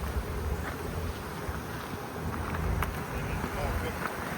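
A honey bee swarm hums steadily as a dense, continuous buzz close by, with a light rush of wind or handling noise over it and no clear talking.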